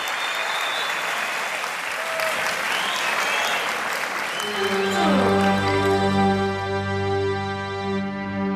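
Audience applause after a live Turkish vocal performance: a dense, steady crowd clapping for about four seconds before music and sustained instrumental tones take over and the clapping fades beneath them.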